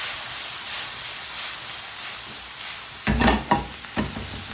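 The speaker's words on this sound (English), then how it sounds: "Give these some more stirring." Tilapia fillets sizzling in a hot pan with vegetables, a steady frying hiss that is briefly broken late on by a few sharp scraping clatters of stirring.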